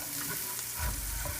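Ghee melting and sizzling in a hot pan while being stirred, a close, continuous frying hiss with soft scraping and stirring scuffs, a little louder partway through, and no talking.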